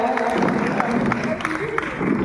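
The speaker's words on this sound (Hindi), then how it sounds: "जोरदार ताली से हमारे कलेक्टर महोदय का स्वागत किया जाए।" An audience applauds to welcome the district collector at a public ceremony at a historic heritage site, with a dense patter of clapping under a speaking voice.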